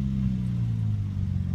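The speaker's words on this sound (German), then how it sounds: "sondern ist natürlich der reine Sechszylinder-Motor." A Lexus IS200 inline six-cylinder engine hums smoothly at a steady low pitch, close and continuous with no talk over it.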